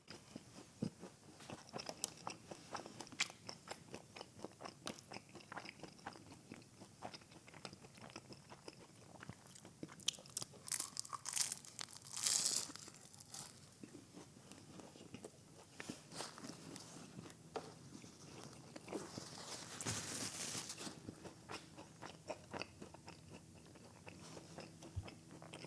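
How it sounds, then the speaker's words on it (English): Crunchy bites of a layered Halal Guys meal, repeated crisp chewing crunches up close over a steady low background, with one brighter burst of crunching partway through. "hear that crunch?"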